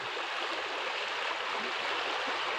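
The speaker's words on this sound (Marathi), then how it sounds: "मस्त पाणी आहे वाहतोय पाणी" Water flows steadily in a village river in Mandangad, Konkan, making a continuous rushing, gurgling wash with no voices.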